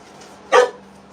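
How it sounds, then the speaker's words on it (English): A pet dog lets out one single loud bark close by, with a quiet room around it and no talking. "What are you barking about"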